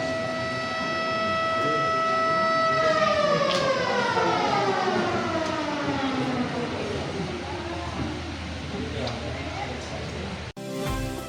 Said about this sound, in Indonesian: Ketika sirene maghrib berkumandang, suara itu bukan hanya penanda waktu berbuka.